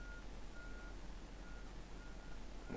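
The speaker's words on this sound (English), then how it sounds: "Who's backing their truck up?" Truck reversing beeps sound faintly in the distance, a regular series of evenly spaced tonal pips over a steady low background hum.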